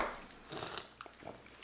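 A close, crisp bite into a Wingstop crunch time chicken wing, followed by softer crunching and chewing sounds.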